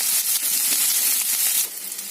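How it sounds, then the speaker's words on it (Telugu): Sliced onions, green chillies and curry leaves fry in hot oil in a pan, giving a steady, bright sizzle that stays loud and even before softening slightly near the end, with no voices. "ఇవన్నీ దూరగా వేగనిచ్చేయండి."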